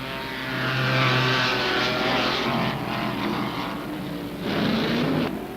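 Off-road race cars roar around a dirt track at a 1977 Riverside off-road race, a loud continuous engine drone swelling and fading as cars pass, with no talk.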